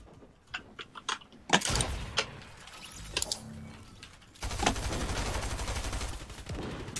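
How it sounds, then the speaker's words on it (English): Gunfire in a first-person shooter video game comes as scattered sharp shots and then sustained bursts of automatic fire, with mechanical clatter in between, loud and fairly close. "I'm being shot by a whole nother team, I think."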